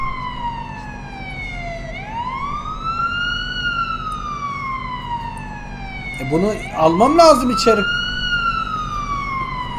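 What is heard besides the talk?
ambulance siren in Police Simulator video game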